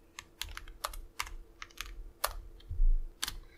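Typing a web link on a computer keyboard: a close, irregular run of crisp key clicks in short bursts, about a dozen strokes with brief pauses between them, no voices.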